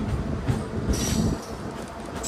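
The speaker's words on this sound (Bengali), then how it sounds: "বন্ধুরা ট্রেন আমাদের ছাড়লো ডামডিম স্টেশন" A local train rumbles and rattles as it pulls away from a small station, with a brief high metallic squeal from the wheels midway and a steady low roar throughout.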